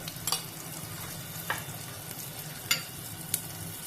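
Tempering spices and turmeric crackle and sizzle quietly in hot oil, with a low steady hiss and a few sharp pops and spoon taps.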